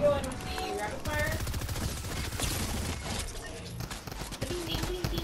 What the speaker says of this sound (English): we're gonna go in with the rapid fire